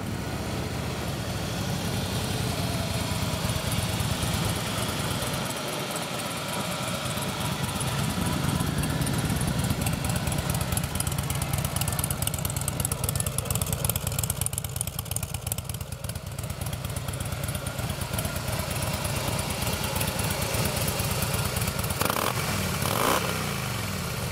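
A Harley-Davidson Softail Fat Boy S FLSTFBS with a 110 engine idles close by with a loud, continuous, lumpy rumble that holds steady throughout, with no voices.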